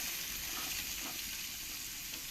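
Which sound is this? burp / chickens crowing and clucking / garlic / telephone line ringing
garlic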